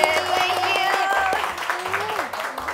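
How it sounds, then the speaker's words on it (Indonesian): Applause for a chef during an online Indonesian superfood cooking class, moderate clapping mixed under voices and tonal background sounds, fairly even throughout. "Boleh kasih tepuk tangan dulu dong untuk Chef Desi."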